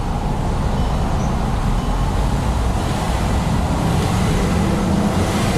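Volkswagen Jetta out on a road test after valve carbon cleaning, a steady low rumble of road and engine noise with wind buffeting, continuous and fairly loud throughout.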